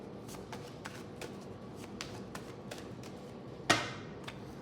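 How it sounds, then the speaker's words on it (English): Playing cards riffled and shuffled repeatedly in quick soft bursts during a card reading, close by, ending with a sharper snap. "I'm going to go with 2 more shuffles."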